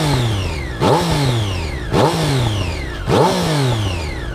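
Triumph 660S motorcycle running through its stock exhaust, idling loudly and close, with three sharp throttle blips rising and falling at steady intervals.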